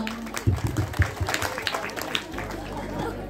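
An audience at an open-air Ramlila performance in Nainidanda claps over a voice, with a few close, sharp claps early on, then a looser spread of crowd applause and some murmur as the sound settles.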